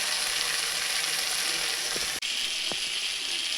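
Spice paste fries in a pan as a dense, continuous sizzling hiss, with a brief dip and a couple of faint stirring scrapes, no voices.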